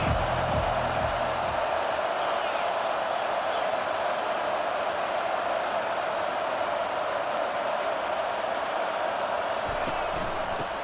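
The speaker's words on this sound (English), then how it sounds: "This crowd bringing an ear-splitting welcome to their visitors." A stadium crowd at a USC versus Texas A&M college football game roars in a steady, loud, unbroken wash of cheering, with no clear individual voices rising above the din.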